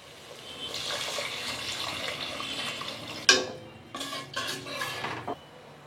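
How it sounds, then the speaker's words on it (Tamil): Water is poured into a metal pressure cooker for basmati rice with a hissing stream, followed by a sharp clank of the pot and a few short splashing pours. "இப்போ தண்ணி சேர்த்துடலாம்."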